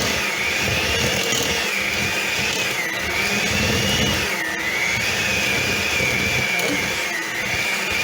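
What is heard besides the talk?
electric mixer blending sugar and butter for pound cake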